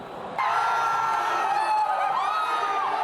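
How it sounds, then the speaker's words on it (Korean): A crowd cheers in a pub as football fans react to their goalkeeper's save during a late-night World Cup match, a loud sustained roar of voices and whoops that erupts suddenly and holds steady. "우리 팀 골키퍼의 기막힌 선방엔 함께 환호하고"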